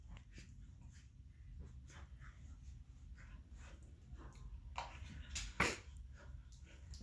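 A puppy whimpers and breathes softly up close, with faint snuffles, a few small whines and a sharp sound near the end over low background rumble.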